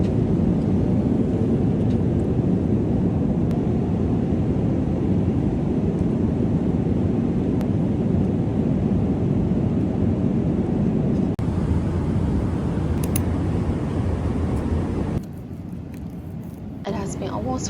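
Loud, steady airplane cabin drone on a long-haul flight fills the clip with a constant low roar, briefly dipping and shifting near the end.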